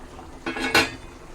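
A pot lid comes off a pot of boiling fish curry with two quick metallic clanks, brief and close, against a quiet background.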